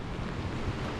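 Steady rushing water of the Labi River in Bongabon, Nueva Ecija, churning around someone wading through it, loud and close with wind buffeting the microphone.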